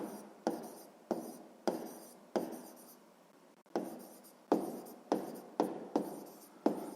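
A pen writes out a math solution by hand in short, rhythmic bursts of scratchy strokes, close and quiet, with a brief pause midway and no talking.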